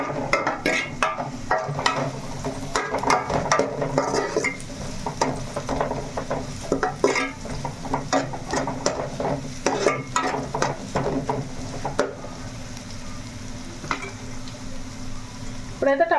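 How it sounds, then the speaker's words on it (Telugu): Onions browned in a pan with two small chopped tomatoes, frying and sizzling steadily while a utensil stirs and scrapes repeatedly, close and continuous with no talking. "ఆనియన్స్ మనం చక్కగా బ్రౌన్ కలర్లో వచ్చేటట్టు వేసుకున్నాక"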